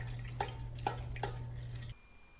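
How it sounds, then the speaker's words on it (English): Pine needle makgeolli rice wine draining through a colander, a few distinct drips falling into liquid over a low steady hum, then the flow stops abruptly. "So I'm going to try to get out the pine needles just in this colander"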